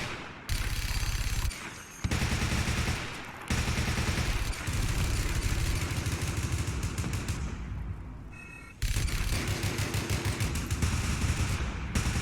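Rapid gunfire in Fallout 4 comes in long, loud automatic bursts, near and dense, broken by short pauses between volleys across the whole stretch.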